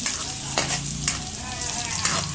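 Garlic and onions sauté in a pan as the base of a spaghetti sauce, a loud close sizzle hissing continuously while a spatula scrapes through them in a few distinct strokes.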